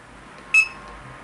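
A single short electronic beep from a barcode scanner reading a book's EAN code, clear and close, against a quiet background.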